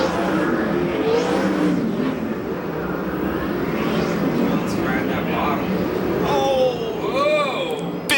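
USAC/CRA sprint cars race at Perris, California in 2006. Loud, continuous engine roar and rising and falling passes sweep by close to the track, while an announcer talks over the noise throughout.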